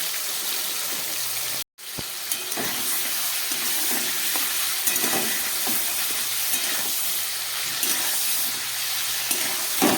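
Salted chicken sizzling steadily in a hot pan, a dense continuous crackle with occasional stirring scrapes and pops, close and alone after a brief silent break.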